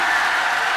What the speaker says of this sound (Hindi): अरे जोर से बजाइए तालियां